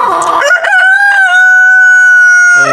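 A Buff Orpington rooster crows close and loud, a single long cock-a-doodle-doo with a rough opening that settles into a steady held note before breaking off.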